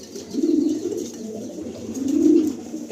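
Racing pigeons in a loft give low, rolling coos in two swelling bursts, close and fairly loud, with faint loft rustle between them and no voices.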